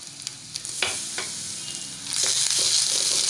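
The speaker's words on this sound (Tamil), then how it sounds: "கிளறி விட்டுக்கலாம்." A kozhukattai filling of grated coconut and jaggery being stirred in a hot pan, with intermittent spatula scrapes over a sizzle that grows louder and denser toward the end.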